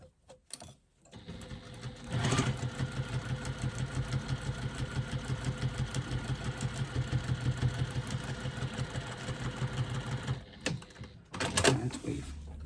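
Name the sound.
sewing machine stitching across top of a wristlet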